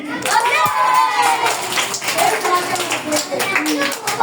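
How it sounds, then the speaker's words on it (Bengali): Children clap for the winner of a small prize contest, a dense patter of small hands close by, with kids' voices chattering and calling over it throughout. "সবাই আবুদুরাবের জন্য একটা হাততালি"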